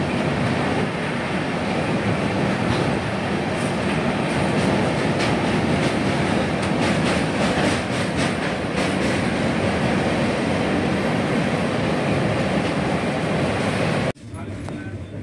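Brahmaputra Mail passenger train rolling loudly and steadily across a roughly 1.5 km long railway bridge on a single-line section between Kamakhya and Rangia, with continuous rumble and rhythmic clatter close by, cutting off abruptly near the end.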